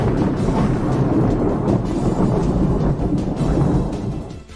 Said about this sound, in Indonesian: petir besar mulai menyerang mereka berlima